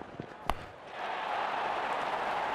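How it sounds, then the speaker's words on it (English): A single sharp crack of a cricket bat striking the ball in Real Cricket 24 during an India vs Pakistan T20 World Cup match, followed by a swelling, steady crowd roar. "made a cracking sound of the bat."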